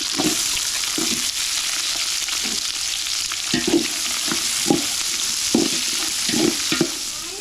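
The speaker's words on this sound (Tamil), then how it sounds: "வெங்காயம் சேர்த்துக்கிறேன்." Onions with green chillies and curry leaves frying in a pan, a constant close sizzle broken by repeated scraping stirs of a spoon at an irregular rhythm, with no talking.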